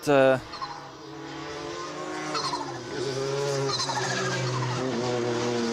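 TCR touring race cars, including Hyundai i30s, on a formation lap at Balaton Park, a layered engine drone with rising and shifting revs that continues throughout.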